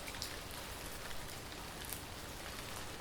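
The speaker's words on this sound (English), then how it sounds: "It's raining." Steady rain pattering on a surface, a dense continuous hiss with occasional louder drops, heard alone without voices.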